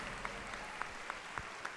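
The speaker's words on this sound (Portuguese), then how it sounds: "A Bíblia diz: batam palmas todos os povos." A church congregation claps in unison during an evening worship service, a soft, steady rhythm of about six distinct, evenly spaced claps over a quiet room background.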